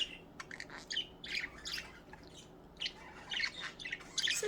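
Budgies chirp and chatter indoors, a busy run of sharp high tweets and warbling squawks in irregular bursts, close by with no talking.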